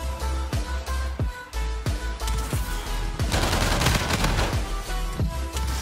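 Gunfire in the video game Call of Duty Infinite Warfare, with rapid bursts of automatic shots and single cracks in a loud, uneven rhythm, building into a denser barrage midway.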